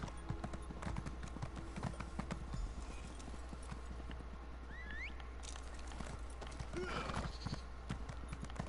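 Steady clip-clop of horse hooves trotting in a quick, even rhythm, with a brief whinny and faint game ambience underneath, in Elder Scrolls Online.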